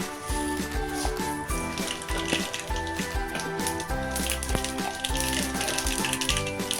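Mustard seeds sizzling and spluttering in hot oil, a continuous crackling hiss with small pops, under steady background music.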